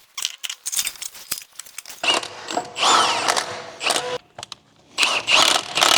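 Drive shaft going into a BMW M4 Competition's suspension during a burnt-out car restoration: close clanks, scrapes and rattling metal contacts in irregular bursts, with brief gaps between.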